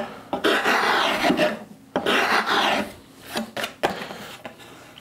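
Rasp drawn across a wooden board to fair a curve, in long rough rasping strokes of about a second or two each, close and fairly loud, with short pauses between passes.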